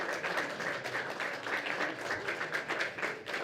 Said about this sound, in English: We'll give these guys a big round of applause.